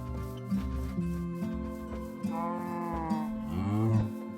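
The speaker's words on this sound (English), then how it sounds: "Lots of cows popping up" In the Minecraft video game, blocky cows low a few times over steady game music, their moos mid-level and partly blended with the background.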